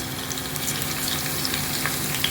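Garlic dropped into hot coconut oil in a pan, a dense continuous sizzle and crackle with scattered sharper pops, close and steady, no talking.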